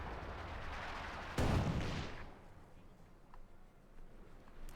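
Artillery fire in the Company of Heroes 2 strategy game, a single loud booming blast that fades over about a second, set against a steady battle ambience with talking over it.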